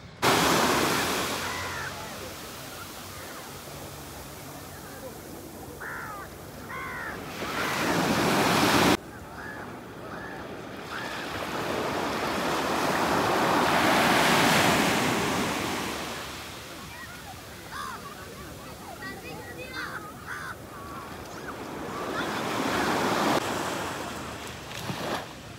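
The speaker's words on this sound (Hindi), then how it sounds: "अब लहरों को देखेंगे, लहरों को सुनेंगे।" Sea waves roll onto an open, clean beach, with loud surging swells that build and recede continuously under heavy wind buffeting on the microphone.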